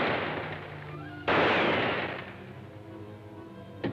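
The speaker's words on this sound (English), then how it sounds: "You fired 3 shots at Blenker and 2 at me" Gunshots in an old radio drama serial, a loud blast that rings out and decays, followed by a sharper, louder shot with a long fading tail and a faint crack at the end.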